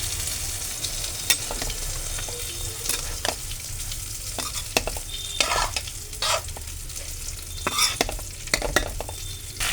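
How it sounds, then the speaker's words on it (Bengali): Red amaranth greens fry in mustard oil in a wok, giving a steady close sizzle broken by repeated scraping stirs and the clack of a spatula, with no voices. "আর একটু সর্ষের তেল দিয়েছি লাল শাকগুলো ভাজার জন্য।"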